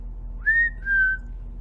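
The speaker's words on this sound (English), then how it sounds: "You're going to have to know how to whistle." A person whistles a short two-note tune, a rising note followed by a slightly lower held note, clear and close over a low background hum.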